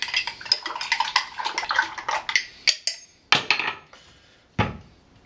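A spoon clinks and scrapes rhythmically against a glass or jar, stirring honey and lemon into a homemade electrolyte drink, with a run of quick close taps followed by a few sharper separated knocks.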